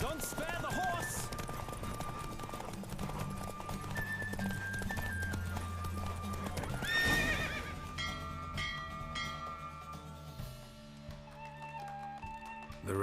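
In The Witcher 3, a racing horse neighs loudly and gallops with rapid hoofbeats against busy game ambience and faint bell tones, then slows and settles near the end, with voices talking throughout.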